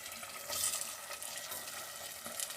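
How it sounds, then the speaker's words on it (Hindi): Potatoes added to chickpea masala frying in a pan, a steady hissing sizzle with soft stirring scrapes and a brief louder burst as they go in, close up. "3 मिनट हो गए, अब आलू डालूंगी।"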